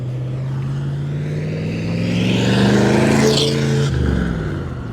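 A 1966 Chevrolet Corvette with a big-block V8 drives past close by, its engine note swelling loudly as it approaches and then dropping in pitch as it goes by.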